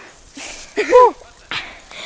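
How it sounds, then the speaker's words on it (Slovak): A dog that attacked people outdoors gives a couple of short, near, loud yelping barks with whiny tone, separated by brief pauses, with some breathy human sounds around them. "Napadol nás pes."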